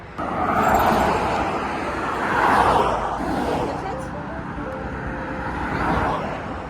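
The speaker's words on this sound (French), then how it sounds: "il n'y a pas beaucoup de voitures comme par hasard" Cars passing on an American road make a continuous traffic roar that swells and fades as vehicles go by, heard under people talking nearby.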